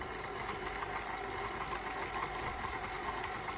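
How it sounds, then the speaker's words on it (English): A stand mixer runs steadily with its paddle beating an egg into éclair dough, giving a continuous close motor whir and hum with no pauses. "I'm going to stop the mixer for a second."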